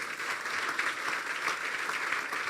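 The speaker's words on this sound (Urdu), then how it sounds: "بجا دے تالی, کوئی بات نہیں" Congregation clapping during a Christmas sermon at an apostolic church: dense, steady applause from many hands, sustained and fairly loud with no talk over it.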